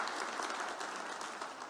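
A church congregation claps in a brief, dense burst of steady applause that sounds somewhat distant.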